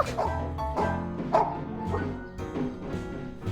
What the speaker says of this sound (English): Herbie was barking in a rage